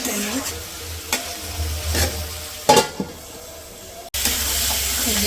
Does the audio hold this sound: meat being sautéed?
yes